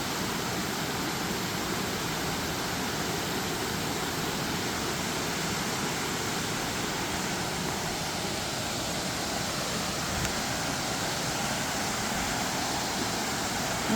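Secret waterfall roaring steadily as a broad, continuous wash of falling water, loud and unbroken throughout with no voices over it.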